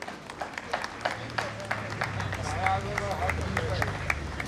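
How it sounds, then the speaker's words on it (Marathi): Churchgoers at St. Thomas Church, Sandor, applaud loudly to welcome their bishop, a dense patter of clapping that builds and holds while a voice talks over it. "जोरात टाळ्या वाजवून त्यांचं स्वागत करूया"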